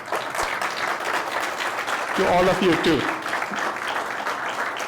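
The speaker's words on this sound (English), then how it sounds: "can we get a round of applause?" Concert audience applauding, a steady wash of clapping through the whole stretch with a person speaking briefly over it.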